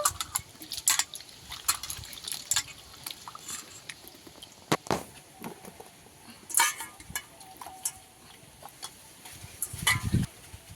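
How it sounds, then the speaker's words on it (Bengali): Cut potato pieces are washed in water, giving close, irregular splashes, sloshing and light clatters throughout, with no talking. "আলুও কেটে নিয়েছি, ধুয়ে তুলে নেব"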